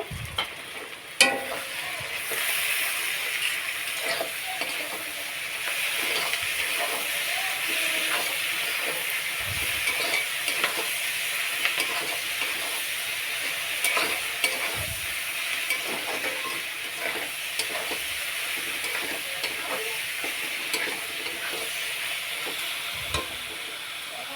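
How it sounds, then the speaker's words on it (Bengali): A pan of onion, garlic and ginger paste with green chillies sautés for a mutton curry, giving a loud, continuous sizzle with steady stirring and scraping strokes close by. "সব পেঁয়াজ বাটা রসুন বাটা আদা বাটা আর কাঁচা লঙ্কা এটাকে কষিয়ে নেব"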